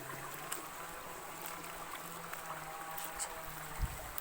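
Water flowing steadily in a village stream, a continuous broadband rush with faint trickles and small splashes; close, even and unbroken, no voices.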